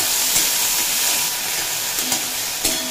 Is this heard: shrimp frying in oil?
yes